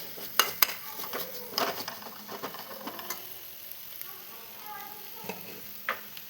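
Coriander and chili powder frying in a pan while a spoon stirs them, with sharp metallic scrapes and clinks over a soft sizzle, close up, a few louder knocks early on, no talking.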